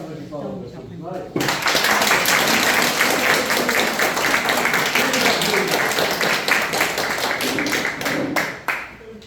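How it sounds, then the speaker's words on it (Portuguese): An audience at a talk on gratitude breaks into loud, sustained applause after a short stretch of speech, many hands clapping close and dense for several seconds before tapering off near the end. "Uma salva de palmas para todos nós."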